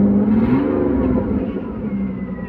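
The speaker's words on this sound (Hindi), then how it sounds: "ये अपनी गाड़ी स्टार्ट हो गई, आप आरपीएम देख सकते हैं।" A 2005 Ford Escape engine running just after starting, a steady loud idle hum with a slight rise in revs, heard close and alone.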